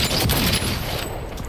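A heavy gun fired in Cyberpunk 2077, a loud dense burst of booming shots packed together, close and continuous for a moment before easing off.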